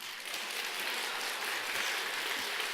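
An audience claps during a Sunday Buddhist dharma talk at Bulgwangsa temple. The applause is even and moderate, runs the whole time with no speech, and swells slightly toward the end.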